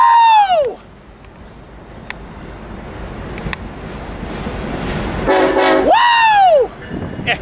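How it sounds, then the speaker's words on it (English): A BNSF or UP freight train horn blows loud and close at the start and again near the end, with a steady rumble of passing loaded coal cars between, at Cajon Pass. "loaded coal train coming our way"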